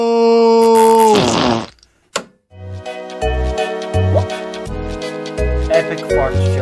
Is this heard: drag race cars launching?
no